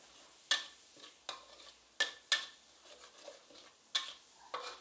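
Snakehead fish belly stir-fries with chili paste in a pan: a spatula scrapes rhythmically about six times, each stroke a crisp, close scratch over a faint, low sizzle.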